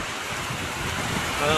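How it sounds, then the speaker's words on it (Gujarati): Steady, dense hiss of heavy rain pouring down in Vinchhiya, Gujarat, constant and close, without any break. "ધોધમાર વરસાદ ચાલુ છે, આપ જોઈ શકો છો"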